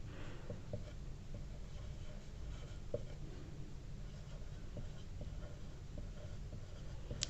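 Quiet scratching and tapping strokes of writing on a board in a science lesson, with irregular short marks against low background hiss and no speech.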